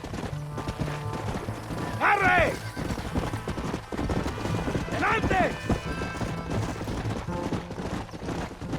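Horse hooves clip-clop in rapid rhythm during a ride in the Red Dead Redemption video game, with two horse whinnies and shouted voices over the galloping.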